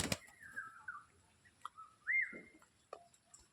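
Pigeons in a pigeon loft, giving a few quiet, close whistly calls and soft coos with brief rustles in between.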